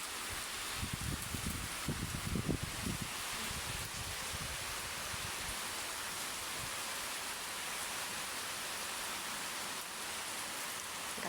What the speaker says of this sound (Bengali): আমার এখানে তো আসলে অনেক বাতাস হচ্ছে, প্রচুর বাতাস বলা যায়।